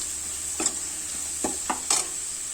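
Spoon stirring chili powder into onions frying in a pan over low heat: a steady sizzle with four distinct scraping strokes spaced irregularly, close and moderately loud, no voices.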